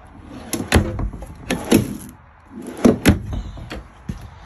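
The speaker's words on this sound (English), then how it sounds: "full drawer extensions." Drawers on full-extension slides being pulled open and pushed shut inside a Jensen Outback 240URS, a series of close sliding rumbles and soft thumps in two bursts, with no talking.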